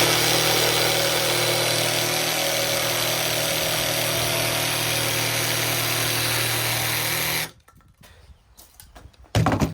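A power tool trims a small curve in insulation board during home insulation work. A loud, steady whine runs close for about seven seconds, then cuts off abruptly into quiet handling noises.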